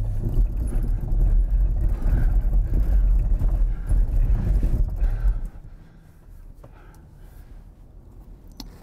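An electric car prototype pulls away on packed snow in offroad mode during winter testing, a loud low rumbling rattle for about five seconds, then dropping to a quieter hum with faint clicks.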